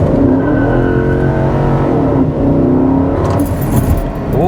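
A Ford BF XR8 ute's engine revs hard close by after a shifter installation, rising and falling through several loud throttle blips that climb in pitch toward the end.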